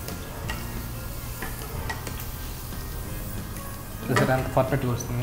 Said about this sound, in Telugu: ఇప్పుడు డీప్ ఫ్రై చేస్తున్నాము